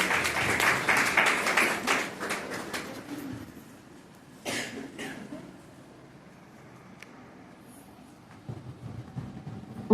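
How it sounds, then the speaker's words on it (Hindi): Audience applause welcomes a guest at a birthday celebration gathering: dense, loud clapping for about three seconds that thins out into a quieter room, with a brief burst of sound midway and faint murmurs. "तो जोरदार तालियों से उनका स्वागत है।"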